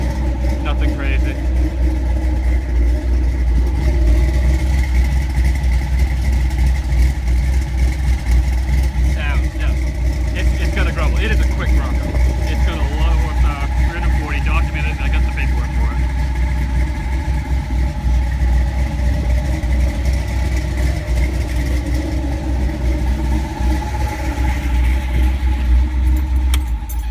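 A 1973 Ford Bronco with a new Ford crate 306 engine idling, a steady low rumble with a slight belt squeal, close by, while a person talks over it and keys jangle.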